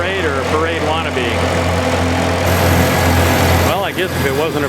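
A Farmall A tractor engine hums steadily at a tractor parade, a low continuous drone held close throughout, with people talking nearby over it.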